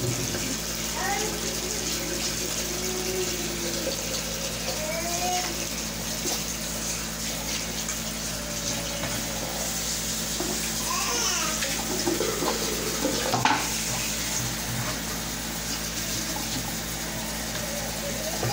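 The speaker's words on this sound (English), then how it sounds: "you want to rinse your mixing bowl, all your stuff" Water runs steadily from a sink tap while a mixing bowl is rinsed after a home hair-bleaching job, a constant close splashing gush with faint clinks and a low hum underneath, no speech.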